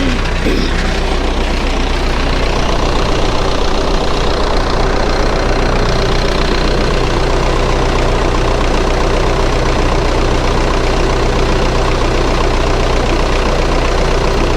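A Caterpillar D4 bulldozer's diesel engine runs loud and close at a steady idle, a dense low rumble with a knocking mechanical clatter holding constant throughout.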